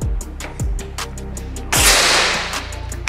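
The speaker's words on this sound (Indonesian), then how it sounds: "Oke, lanjut lagi tembakan yang ketiga." A budget PCP air rifle fires several sharp, loud shots in sequence at a target about 20 meters away, each a crisp crack with short decay, the last followed by a longer burst of hiss.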